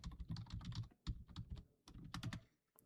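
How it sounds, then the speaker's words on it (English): Fast, close typing on a computer keyboard in a day-trading setup, a dense run of clacking keystrokes with a brief pause midway before resuming, no voices. "I'm the fastest day trading typer in the game"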